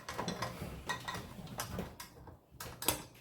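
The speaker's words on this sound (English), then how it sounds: "We're gonna attach our bowl and use our dough hook." A stand mixer's bowl and dough hook being fitted into place in a home kitchen while making soft sandwich bread, giving a string of close metallic clicks, taps and clatter with no talking.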